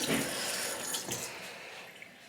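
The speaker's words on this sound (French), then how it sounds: "je rince ma main pour pas mélanger les deux produits" A hand rinsed under a running tap, with water splashing steadily for a couple of seconds, close and moderately loud, with no one speaking.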